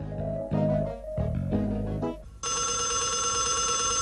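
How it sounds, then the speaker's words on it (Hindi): An old-style telephone bell rings out loudly and steadily, starting abruptly after some brief indistinct sounds, in an indoor drama scene. "किसका फोन था?"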